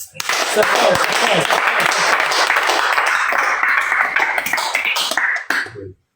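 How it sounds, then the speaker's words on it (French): A church congregation breaks into sustained clapping and cheering at a live worship service, a dense, steady wash of applause lasting several seconds before cutting off abruptly. "on acclame ça"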